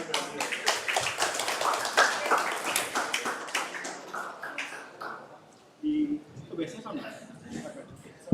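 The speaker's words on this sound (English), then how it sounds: "Big round of applause" Audience applause welcomes a keynote speaker at an international civil engineering webinar: a burst of dense clapping fades out over about five seconds, then a voice begins talking.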